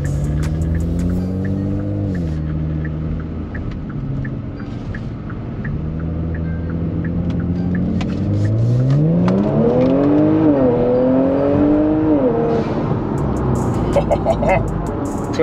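A twin-turbo Kia Stinger engine revs up and down nearby, its pitch climbing and falling in several rising sweeps over a steady idle, with someone talking over part of it.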